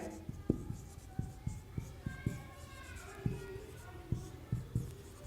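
Chalk or marker writing on a classroom board during a reasoning class, a steady run of short tapping strokes at an even rhythm, moderately close, with a faint voice in the background.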